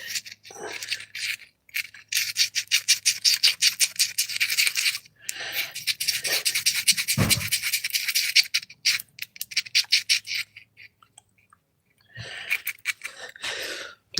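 Epoxy glue being mixed by hand while fitting a rod for a racing build, heard as fast, rhythmic scraping and stirring strokes close up, in bursts with brief pauses.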